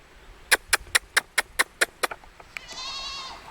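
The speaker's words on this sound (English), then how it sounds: "Here, goats. See if we can get her to come to us." A goat bleats in a rapid run of about eight short, evenly spaced calls, followed by a softer, longer wavering bleat, fairly close and with no talking.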